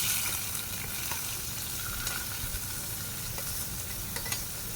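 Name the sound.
sautéing bitter gourd in a pan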